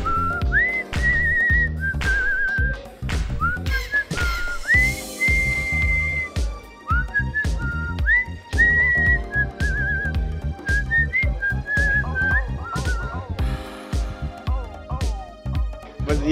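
A person whistles a favourite song as a continuous melodic tune, clear and close, with short pauses between phrases and no talking.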